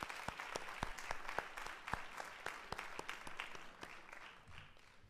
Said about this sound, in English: Can we please give Dr. Jenkins a round of applause?